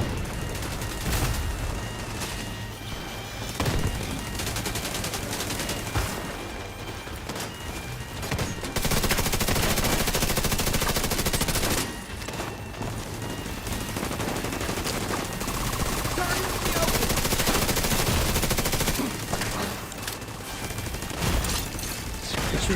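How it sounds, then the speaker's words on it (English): Gunfire in The Division 2 keeps up steadily, with dense bursts of automatic fire and shots overlapping in a loud, continuous barrage with only brief pauses. "You're shooting me now."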